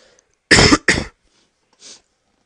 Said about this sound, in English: Sorry about that cough there, guys.